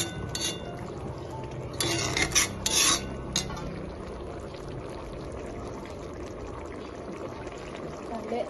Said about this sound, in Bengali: জল পুরোটা, এক বাটি জল পুরোটা যাবে, যেন এটা একটু হালকা হালকা সিদ্ধ হয়।